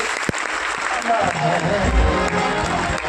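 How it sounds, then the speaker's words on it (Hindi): Participants at a health workshop seminar burst into loud applause, a dense crowd clapping continuously, with a voice talking over the noise. "एक बार जोरदार तालियां आप सबके लिए होनी चाहिए"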